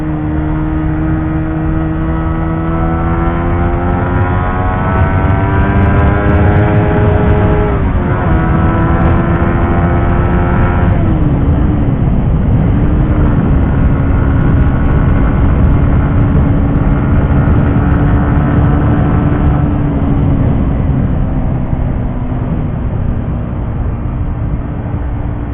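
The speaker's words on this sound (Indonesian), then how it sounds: "Jadi motor ini kalau dipacu dia bener-bener tenaganya tuh ngisi banget." A 2020 Suzuki GSX-R 150 sport motorcycle engine revs loud and close, its pitch rising through the gears with brief dips at the shifts, humming on steadily for the whole stretch.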